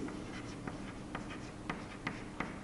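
A pen writing on paper, heard as a quick series of soft scratchy strokes, close but quiet, with no talking.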